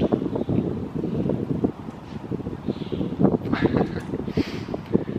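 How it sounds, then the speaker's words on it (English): Gusty wind buffeting the microphone in low rumbling bursts, steady and close, with no voices. "Oh, it's windy."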